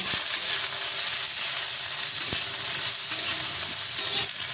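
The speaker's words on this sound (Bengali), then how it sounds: "এবার উচ্ছেটা দিয়ে দিচ্ছি উচ্ছেটা ভেজে নেব" Bitter gourd frying in hot oil with bay leaf and five-spice seeds, a steady close sizzle with a few sharp stirring scrapes, and no voices.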